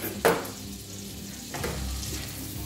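Bresse butter melting in a pan over heat, a soft continuous sizzle and frying crackle with a brief louder clatter near the start, steady and close, no talking.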